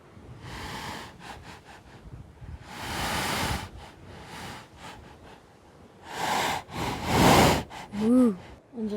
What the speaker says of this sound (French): Trou souffleur.